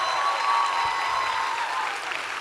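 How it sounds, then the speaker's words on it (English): Sustained applause from a live audience, dense and fairly loud, holding steady for about two seconds with no voices over it. "Can we have a big round of applause?"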